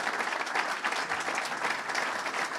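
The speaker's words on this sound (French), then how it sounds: "Oui, ça s'applaudit tout cela." Steady, dense applause from an audience at a press conference for the 24 Heures du Mans 2023 motor race, sustained evenly throughout with no speech over it.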